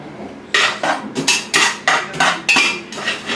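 Cooked noodles for chicken parm are served onto plates with a utensil, making about eight quick scraping, clinking strokes in an uneven rhythm, close up with no talking.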